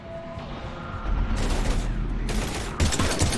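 Gunfire in the video game Mass Effect 3, with bursts of rapid automatic fire and crashing impacts against a busy battle background, loud and continuous through the second half.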